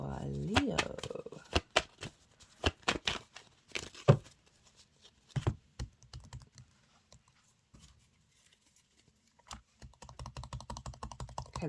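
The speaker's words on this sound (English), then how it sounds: "they're tapping on the tarot deck" Fingers tap and click on a tarot card deck in quick, uneven bursts, with some crinkly shuffling between strikes, close up and fairly quiet.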